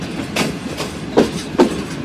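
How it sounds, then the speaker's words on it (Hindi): A train runs along a railway line near Lala Musa in Pakistan, its wheels giving a few distinct clickety-clack thumps over rail joints against a low rolling rumble. "देखते हैं कौन सी ट्रेन आ रही है सामने से"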